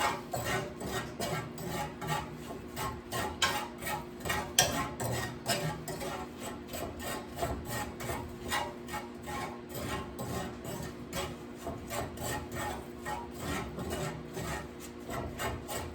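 Meatloaf mixture is worked by hand in a bowl, a soft, steady squishing and rubbing with faint scraping, repeated in quick rhythmic pulses, close and quiet, with no talking.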